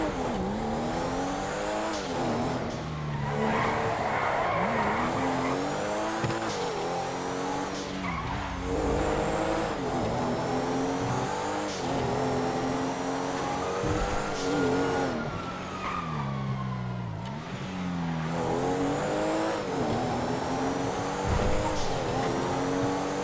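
Car engine roaring continuously with repeated tire skids and squeals during a chase in a video game, loud and close throughout with no talk.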